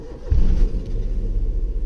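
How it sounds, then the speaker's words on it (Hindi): A car engine catches with a sudden low burst and settles into a steady close idle rumble, loud and alone, while the car sits in neutral with the handbrake pulled. "तो ये मेरी गाड़ी अभी स्टार्ट हो चुकी"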